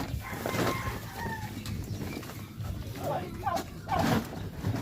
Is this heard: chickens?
yes